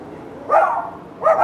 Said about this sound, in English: Don't bark at my bunny!